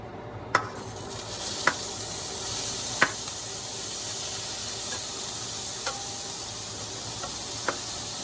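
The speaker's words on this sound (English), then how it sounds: "we're gonna saute that whole works, all that mushroom" Mushrooms sauté in a pan with a soft, continuous sizzle and hiss, broken by a few sharp clicks and taps of a utensil against the pan.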